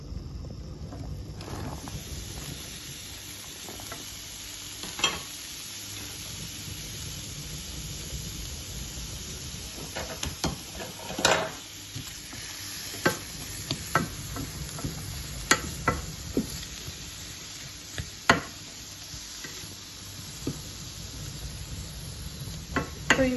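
Seasoning tossed into hot oil for a sausage and mash gravy, giving a low, steady sizzle with scattered clicks and scrapes of stirring throughout, fairly quiet and with no talking.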